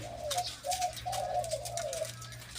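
A Riwtan-type dove coos loudly in a series of deep, resonant phrases, several calls in close succession, heard near and clear over a low steady background hum.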